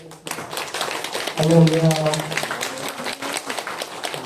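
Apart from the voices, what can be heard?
applause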